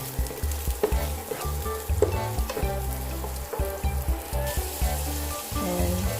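Garlic and then onion sizzle and fry in a hot pan, a steady crackling hiss with repeated stirring scrapes, close and continuous with no talking.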